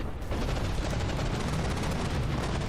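Cram cannons fire in the naval combat game From the Depths as a dense, continuous barrage of booming blasts that roll together into one heavy, loud rumble.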